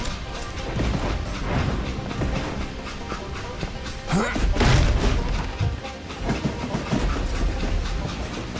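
Train in the Call of Juarez Gunslinger video game rumbles loudly with steady clattering wheels, a heavy boom and crash midway, and voices talking over the din.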